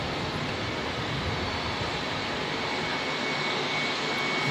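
A LATAM airliner on approach to Auckland Airport gives off a steady, broad engine roar that holds at an even level and swells slightly toward the end, heard alone at a distance.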